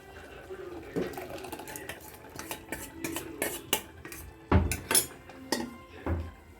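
A metal spoon stirs and mixes sambar in a pot for idli, giving irregular clinks and scrapes against the metal sides, some sharp and close, over a quiet background.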